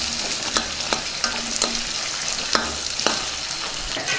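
Onions, garlic, green chilies and curry leaves fry in oil while a spoon stirs them, steady loud sizzling broken by sharp regular scrapes and knocks of the utensil against the pan roughly every half second.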